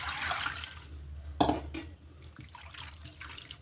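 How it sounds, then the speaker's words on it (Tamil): Fresh water poured over meat sitting in a strainer, a close splashing stream at the start with a sharp slosh midway, then softer trickling and dripping that fades toward the end, no voices. "இதில் வந்து பச்சை தண்ணி ஊற்றிக்கலாம்."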